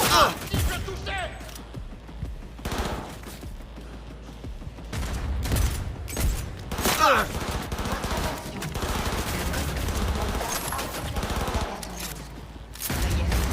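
Rapid gunfire bursts and fusillades from a Cyberpunk 2077 firefight, loud and repeated across the scene, mixed with shouted voices and game ambience.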